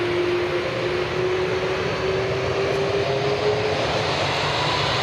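A passenger airplane takes off from runway 10 at Dublin Airport, its engine roar a steady, fairly distant drone with a thin tone that slowly rises, with no voices.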